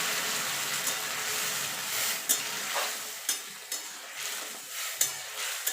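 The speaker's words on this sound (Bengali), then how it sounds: "পেঁয়াজটা ভাজা হয়ে গেছে। ডালটা ঢেলে দেবো।" Lentils tipped into a pan of onion and garlic frying for a Bengali jute-leaf dal, giving a steady loud sizzle with a few stirring scrapes and soft clinks, no talking.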